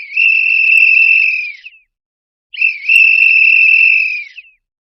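Two long, shrill whistle blasts, each held for over a second with a slight trill, separated by a short pause; loud and close, with nothing else audible.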